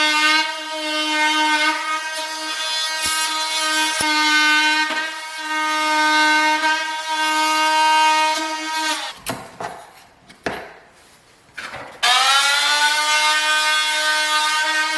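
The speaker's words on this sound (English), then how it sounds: "we need to undercut the door casings and jambs, and I'm just going to use this Rockwell Sonic Crafter" A Rockwell Sonic Crafter F50 oscillating multi-tool undercuts door casings and jambs before glue-down vinyl plank flooring goes in, a loud, steady buzzing whine that dips and sputters as the blade bites into the wood.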